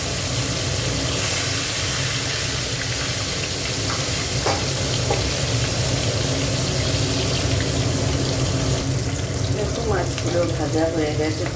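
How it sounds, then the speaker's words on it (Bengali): Fish frying in hot oil in a home kitchen, a steady dense sizzle that holds loud and constant at close range, with faint clinks near the end. "দেখো তেল গরম হয়ে গেছে, মাছগুলো ভেজে নেব।"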